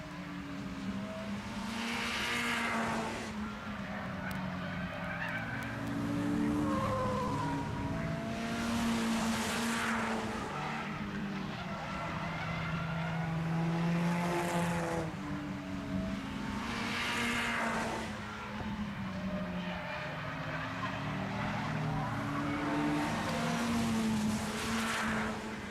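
Short track race cars roar past at Grand Bend Speedway on Labour Day Sunday, engines rising and fading in repeated waves every few seconds as the pack laps, loud and continuous.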